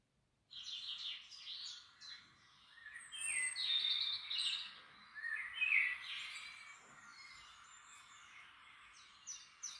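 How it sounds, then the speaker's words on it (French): Small birds chirp outdoors in a quiet natural setting, with bursts of high, quick tweets and trills that come and go over soft background hiss, moderately near and clear. "cette nature et ces petits oiseaux."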